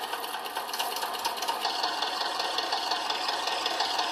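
A tractor engine in the Farming Simulator 19 game runs at a steady idle, a continuous mechanical drone with a fine rattling clatter, fairly loud and close with no voices over it.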